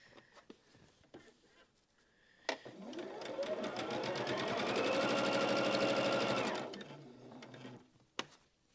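Sewing machine running steadily for about four seconds while chain-piecing quilt seams, a close, even mechanical whir with a fast stitching rhythm, bracketed by a few soft clicks and handling noises.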